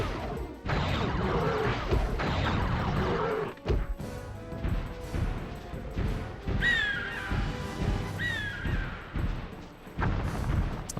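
A bird in the Spyro 2 video game squawks in two short rising calls among loud crashes, thuds and clanking mechanical game effects.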